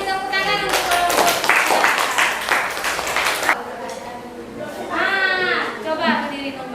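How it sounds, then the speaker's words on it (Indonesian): Classroom students clapping for a group, a loud burst of rhythmic hand claps that stops abruptly, followed by voices speaking. "Kasih tepuk tangan untuk kelompok."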